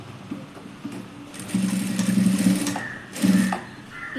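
A sewing machine runs backtack stitches on a blouse in short close bursts, a rapid mechanical whir that speeds up and stops twice over soft background noise.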